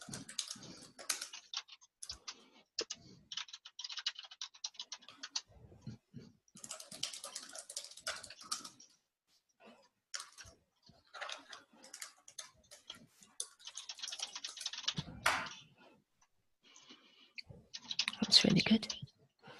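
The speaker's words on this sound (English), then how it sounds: "So I'm going to start typing, and maybe Alistair, you can as well." Typing on a computer keyboard in a classroom writing activity: quiet, irregular bursts of key clicks with pauses between, faint and close, with some soft talk in the background.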